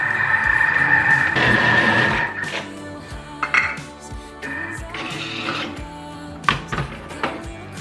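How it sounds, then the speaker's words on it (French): A food processor whirs in loud bursts while mixing quiche dough of flour, lukewarm water and salt, its motor rising and stopping with clattering lid and bowl knocks between pulses. "je vais mixer un peu pour bien amalgamer tout ça"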